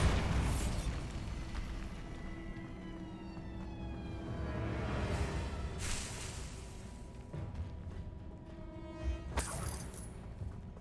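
Magical Bombarda explosion spells from Hogwarts Legacy boom out repeatedly, each blast a loud burst with ringing tonal tails, over a constant rumbling game background.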